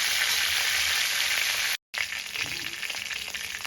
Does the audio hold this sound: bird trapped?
no